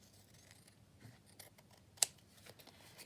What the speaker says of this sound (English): just trim it off so it's kind of level